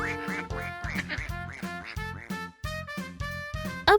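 Ducklings in a small water park quack repeatedly in quick, bright bursts, several calls overlapping close by.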